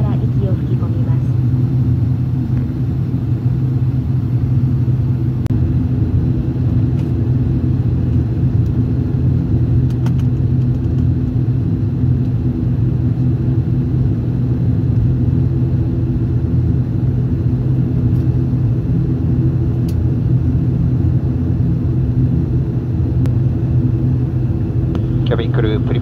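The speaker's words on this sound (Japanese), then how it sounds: "間もなく離陸いたします" A steady, loud low rumble of a small passenger airplane's engines idling before takeoff from Okadama Airport, Hokkaido, continuous throughout, with faint talk underneath.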